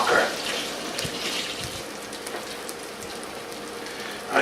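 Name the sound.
pollock fish sizzling in a pan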